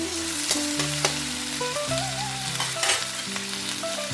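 Fish head and cabbage frying in oil with a brisk, loud sizzle, stirred steadily so the spatula scrapes and knocks against the pan at irregular intervals.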